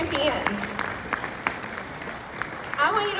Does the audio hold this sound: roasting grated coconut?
no